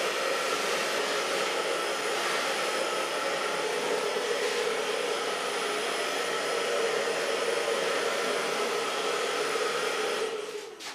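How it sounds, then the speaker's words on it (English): A hair dryer blow-drying hair for a long bob cut in a salon roars loud and steady at close range for about ten seconds, then cuts off at the end. "So far blow drying."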